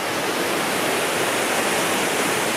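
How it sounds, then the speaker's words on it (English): Lumb Hole Falls, swollen after heavy rain, roars in a loud, steady, unbroken rush of falling water close by, with no voices over it. "so it's a pretty powerful waterfall right now"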